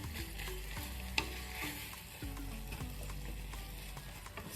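Cottage cheese seasoned with salt and pepper is stirred in a pan over a lowered flame, with a soft steady sizzle beneath repeated scraping strokes of the spoon and one sharp knock partway through, all fairly quiet and close.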